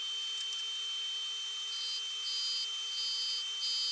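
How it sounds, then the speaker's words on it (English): A wooden Christmas ornament is power sanded on a lathe, a constant high-pitched whirring hiss with brief brighter surges as the sanding pad presses against the spinning wood, steady and close with no voices. "I like to power sand whenever possible"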